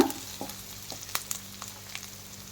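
Onions frying in a pan for spicy tomato rice, a soft steady sizzle with faint scattered pops and clicks of stirring, fairly quiet and close, no voices.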